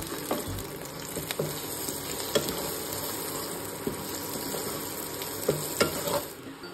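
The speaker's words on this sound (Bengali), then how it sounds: "এখানে পেঁয়াজ ভাজা চলছে, পেঁয়াজটা হালকা ফ্রাই হয়ে গেলেই কিন্তু আমি আলুটা দিয়ে দেবো।" Onions fry in a pan for chowmein, giving a steady, close sizzle broken by scattered clicks and scrapes of stirring.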